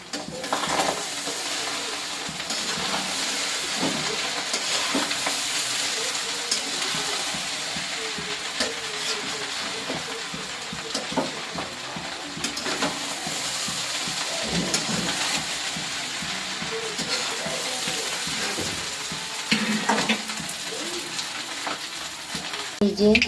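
Paneer with butter paneer masala fries in a kadai while being stirred, a continuous close sizzle broken by repeated scraping and clattering strokes of a spatula over more than twenty seconds.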